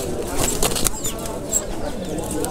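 Pigeons at a pigeon market coo and flutter amid a busy crowd, with wing flaps and soft calls close by under steady background chatter.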